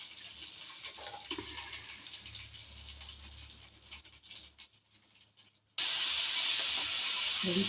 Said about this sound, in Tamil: எண்ணெய், கடுகு, சோம்பு, கருவேப்பிலை போட்டு உருளைக்கிழங்கு போட்டாச்சு